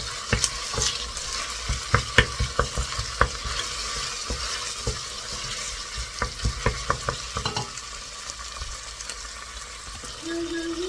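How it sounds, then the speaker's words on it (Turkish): Onions frying with tomato paste in a pan for a Turkish chickpea and meat stew, a steady close sizzle broken by repeated scraping and stirring clacks of a spoon against the pan, with no talk. "Şöyle pembeleşene kadar kavuruyoruz."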